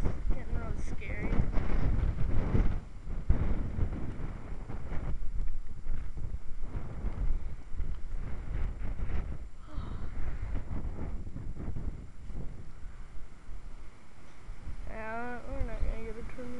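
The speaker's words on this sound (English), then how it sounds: "This wind is getting really scary." Strong gusting wind roars and buffets the microphone outdoors in a continuous, rumbling wash, with people talking intermittently under the noise.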